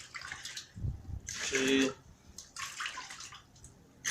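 Water pours and splashes into a measuring container during emulsion paint mixing, a couple of rushing bursts close by, with a spoken count at the start.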